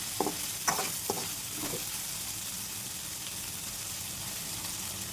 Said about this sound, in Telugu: ఇంకొక 2 minutes అయితే ఫ్రై అయిపోతాయి కంప్లీట్గా